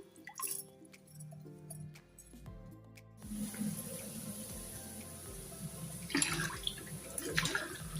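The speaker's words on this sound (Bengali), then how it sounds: "মাংস ধুতেছি এই যে মাংসগুলো ধুই নি" Meat for biryani is washed in a bowl of water, with splashing, pouring and dripping close by after a few handling clatters.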